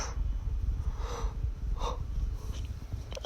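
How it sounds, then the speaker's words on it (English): A person yawns during a casual spoken diary about their day, with a few soft, breathy inhalations and exhalations close to the microphone over a steady low background rumble. "why do I always yawn when I make these?"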